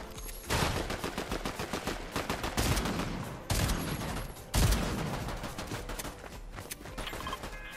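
Rapid gunfire from a firearm in a battle royale shooter, several sharp bursts of automatic shots with brief pauses between volleys, loud and close.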